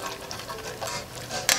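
Sugar browns in a pot for Trini stewed black-eyed peas with a soft, close sizzle and bubbling, steady and fairly quiet, ending with a brief sharp clink.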